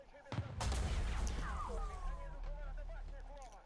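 A tank gun goes off in War Thunder, one sharp blast followed by a long rumbling decay under a low engine drone, and a voice talks over the tail.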